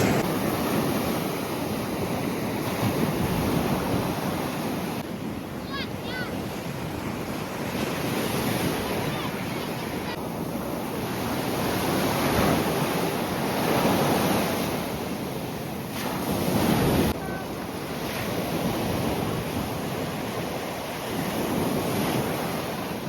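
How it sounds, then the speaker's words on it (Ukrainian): Stormy Black Sea surf rolls onto a beach in a steady, close wash of breaking waves, with gusting wind buffeting the microphone throughout and no voices. "Море сьогодні штормить."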